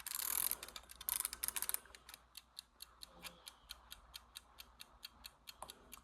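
Ladybug kitchen timer being wound: a dense burst of ratcheting clicks for under two seconds, then a steady, faint, evenly spaced mechanical ticking that continues alone.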